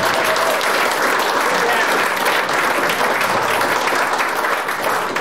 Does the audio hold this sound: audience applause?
yes